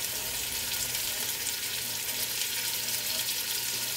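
Meat browns in oil in a stew pot for a bean stew, giving a steady, close sizzle and crackle that holds evenly throughout.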